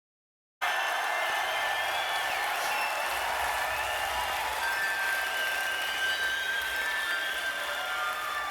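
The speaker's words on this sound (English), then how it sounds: "Crowd is going wild." Crowd noise at a live rock concert, a steady, dense wash of cheering and applause that holds at a constant level from start to finish with no pauses.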